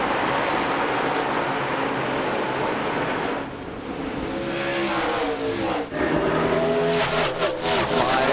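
NASCAR Busch Series stock cars roar past at high speed in the 2005 Kroger 250, engines whining and rising in pitch as they pass, loud and continuous with no voices.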